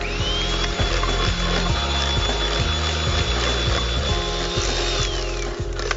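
An electric mixer whisks eggs with caster sugar, icing sugar and orange zest for an iced orange cake, giving a steady, close motor hum with a faint whine and a repeating rhythmic clatter throughout, with no voices.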